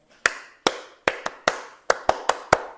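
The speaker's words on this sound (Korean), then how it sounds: "주의 백성들은 손뼉을 치며" Nine sharp hand claps during a church worship song, spaced in an uneven rhythm, loud and close with no voices.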